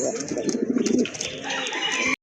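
A pair of Madrasi golla pigeons coo close by in a rolling, throaty run of low notes that carries on until a sudden cutoff.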